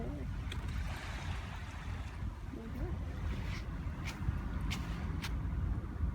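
Distant low engine rumble of a passing ferry heard from a beach, over wind and water noise, with faint scattered clicks and no clear talk.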